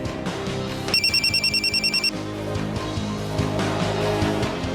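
A telephone rings with a call from a close friend in Pakistan, a rapid electronic bell trilling in repeated bursts for about a second over steady background music.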